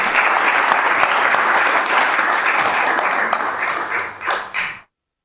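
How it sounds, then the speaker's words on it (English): Audience applause at a city council meeting: a full, steady burst of many hands clapping that thins into a few scattered last claps before stopping abruptly. "Round of applause for those people"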